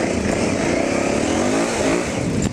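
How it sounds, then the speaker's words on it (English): Several big motorcycles idle and rumble together nearby at a group ride start, a steady loud engine drone with no talk. "we got a lot of loud noise for some big old bikes here"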